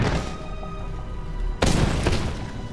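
A single in-game gunshot fires in Resident Evil 6, a sharp, loud boom cutting through low ambient game noise, with a brief echoing tail.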